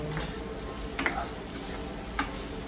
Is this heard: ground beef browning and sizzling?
yes